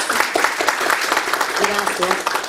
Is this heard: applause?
yes